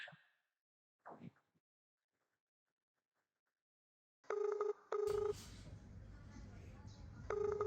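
An electronic phone ring tone sounds in short repeated bursts after a quiet stretch with a couple of faint clicks.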